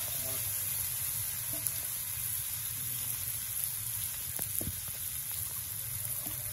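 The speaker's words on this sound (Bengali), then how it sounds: "পেস্ট, টমেটো, আদা, রসুন, লঙ্কা, পেঁয়াজ দিয়ে নেড়ে নেওয়া হচ্ছে" Spice paste with tomato, ginger, garlic, green chili and onion frying and being stirred in a pan for a Bengali koi and jeol fish curry, giving a steady close sizzle with faint scraping of the spoon throughout.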